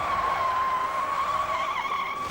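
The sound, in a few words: heavy car skidding during a police chase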